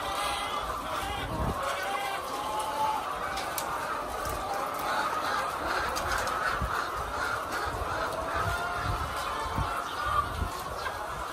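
Hungry chickens on a Filipino poultry farm awaiting delayed feed, a continuous raspy chorus of clucks and calls from many birds at moderate distance, with brief sharper squawks now and then.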